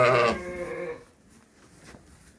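Sheep and lambs bleat inside a barn, one loud close bleat at the start followed by fainter, quieter animal sounds.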